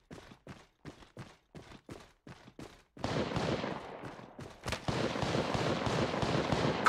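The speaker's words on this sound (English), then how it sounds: "Shots fired at me." Gunfire in Apex Legends aimed at the player: a series of separate sharp shots at first, then a dense continuous barrage of rapid overlapping fire with a loud crack partway through.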